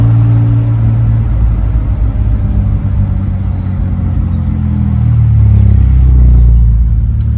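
A 1962 Aston Martin DB4 Series IV coupe engine idling as it warms with the choke on, a loud, steady low rumble close by that swells slightly toward the end, no voices.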